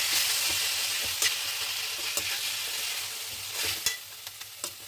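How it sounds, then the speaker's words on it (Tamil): Steady sizzling of chayote frying in a pan, broken by several sharp scrapes and clacks as it is stirred, no talking. "இப்போ இந்த சௌச்சௌவை இதில் போட்டுடலாம். நல்லா கலந்து விட்டுக்கோங்க."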